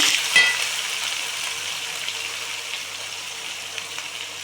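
Ground onion paste hits hot oil with cumin, fennel seeds and curry leaves, giving a loud initial sizzle that settles into a steady frying crackle up close, with no talking.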